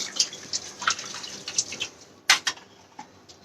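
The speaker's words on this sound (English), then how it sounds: "I'm just stopping the cooking process by running some cold water on it." Cold water runs and splashes over cooked food in a kitchen, heard as irregular drips and spatters with a few sharper splashes, fairly close and with no talking.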